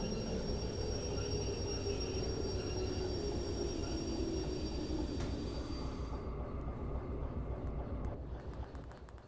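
Locomotive rolling on rails in the VR game Derail Valley, a loud steady rumble with wheel and rail noise throughout, a high whine above it, easing off a little toward the end.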